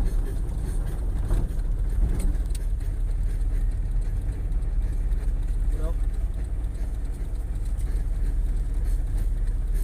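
A car rolls along at low speed during a driving lesson, its steady engine and road rumble continuous and fairly loud throughout, with an instructor's voice heard intermittently over it.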